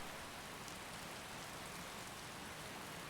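Rain pours in a Skyrim wilderness, a thick uniform wash of drops, quiet but unbroken from start to end with no voices over it.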